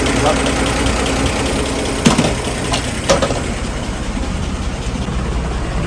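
Steady, even rumble of a Chevy 235 engine idling smoothly nearby after a valve adjustment, with a couple of faint clicks partway through.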